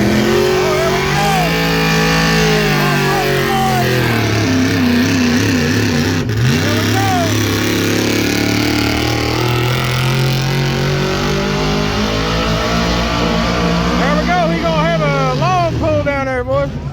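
Trucks and tractors pulling sleds at a truck and tractor pull, a loud sustained engine roar that climbs and bogs under strain for many seconds, with people talking over the noise.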